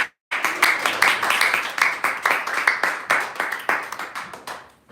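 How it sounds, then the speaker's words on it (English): A small audience at a Bhagavata Sravana gathering claps to welcome a speaker: sparse, distinct individual hand claps in an uneven rhythm, close and clear, starting abruptly after a brief silence. "Please join me in welcoming him by giving him a loud round of applause."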